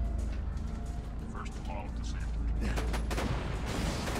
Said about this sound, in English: Explosions everywhere apparently.